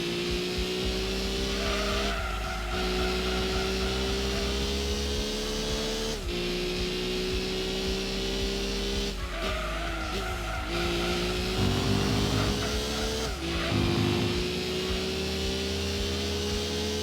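A GT500 race car in Gran Turismo 2 on PlayStation, engine droning at high revs with gear changes every few seconds and the tires squealing through corners, loud and steady with no talk.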